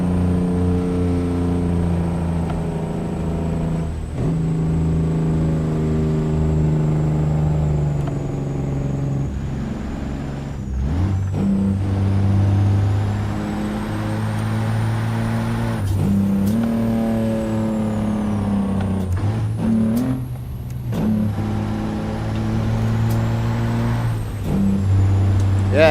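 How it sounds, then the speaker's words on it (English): Detroit DD60 diesel truck engine from a sound mod in American Truck Simulator, a loud steady rumble with shifting engine tones as it revs and changes gear, sharp air brake hisses at intervals, no talking. "It's a sound mod from Slab Jerry, the DD60."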